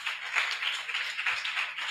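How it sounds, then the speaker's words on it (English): An audience at a health professionals board website launch gives a steady round of applause, dense rhythmic clapping filling the room with no voices over it. "let's give them a round of applause"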